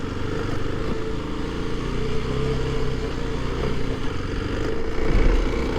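A motorcycle ridden onto loose sand, its engine droning steadily and close with slight surges as the bike works through the soft ground, no talk over it.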